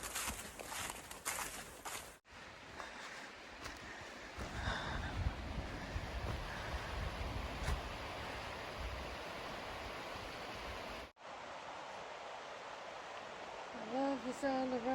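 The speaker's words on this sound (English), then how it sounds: "I love the sound of running water from the creeks." Creek water runs along a hiking trail on the Appalachian Trail near Killington Peak in Vermont, a steady broadband hiss of flowing water with brief cuts and footsteps, and a voice heard near the end.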